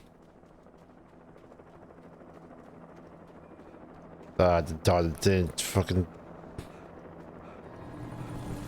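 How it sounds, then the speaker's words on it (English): A helicopter in the video game Alan Wake gives off a steady low rotor drone that runs the whole time and swells slightly toward the end, while someone briefly talks over it midway. "damn helicopter"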